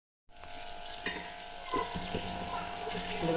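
Onion, garlic and red chili frying in a pan, a steady close sizzle with occasional stirring scrapes, starting abruptly and holding level, no voices.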